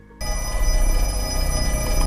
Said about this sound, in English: The phone that is constantly ringing